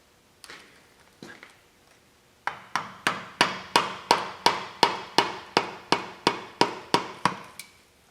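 A rear differential cover on an S10 Blazer is struck loose with a hammer: a couple of quieter taps, then a rapid, even series of about fourteen loud metallic blows close by.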